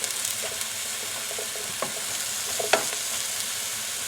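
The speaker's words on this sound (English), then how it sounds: "give these onions a little toss so they don't get too brown on one side" Onions fry in a pan with a steady broadband sizzle, broken by a few sharp scraping knocks as they are tossed and stirred, the loudest near the end; no voices.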